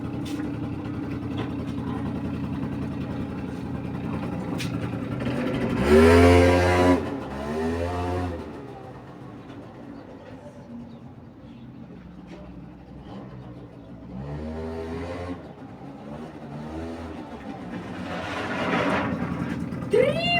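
Moped engine running during a ride, a steady mid-pitched drone that swells and fades with passing, and voices speaking at intervals over the hum.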